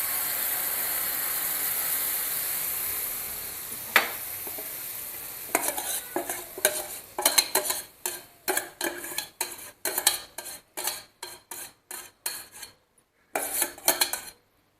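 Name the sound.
stirring ragda in a kadhai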